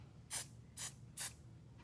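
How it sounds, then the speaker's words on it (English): Three short hissing bursts of hairspray sprayed onto a charcoal drawing, evenly spaced about half a second apart, close by with quiet pauses between. "you're going to take your charcoal and you're going to spray it with hairspray"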